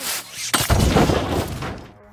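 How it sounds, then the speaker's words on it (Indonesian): A homemade bomb detonates inside an office in an action film scene: a sharp, loud blast that rolls into a dense, crackling burst of debris and rumble before fading out, with no voices. "sesaat setelah Kwan keluar dari kantor Liam, bom itu meledak"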